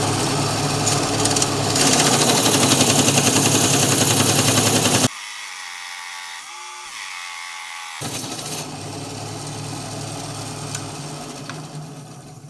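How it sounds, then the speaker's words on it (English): A Gryphon band saw cuts through thick, tough micarta. A loud, close mechanical whine with cutting noise runs for about five seconds and then stops abruptly. Lower motor hum and renewed cutting follow after a short, quieter gap. "This is some pretty tough stuff, hard to cut. The saw should cut it no problems."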